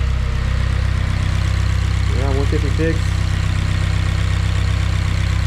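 A car engine idles unevenly with a steady low rumble, loud and close, while someone speaks briefly over it.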